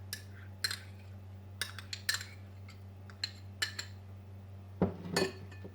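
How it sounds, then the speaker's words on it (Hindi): A spoon scrapes and clinks in a pan while pasta is mixed with ketchup and pizza sauce for chicken pizza pasta, with scattered sharp metallic taps and a low steady hum beneath. "पास्ता में मिक्स करूँगी। केचप डाल दिया, पिज़्ज़ा सॉस"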